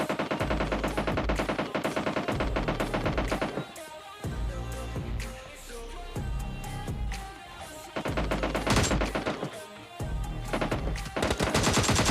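PUBG Lite gunfire during a one-versus-two rush match: rapid automatic bursts rattle over a continuous backing track, pausing briefly before resuming in dense volleys.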